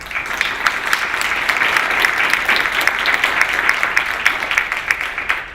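Steady applause from an audience thanking a community discussion panel, a dense wash of many hands clapping at full volume throughout, with no voices standing out.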